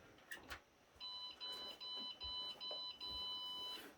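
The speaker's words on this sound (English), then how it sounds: "it'll give a no memory beep" A Supermicro motherboard's no-memory beep code: a series of high electronic beeps, one short, then several longer tones in a steady pattern, fairly close and clear over faint background noise.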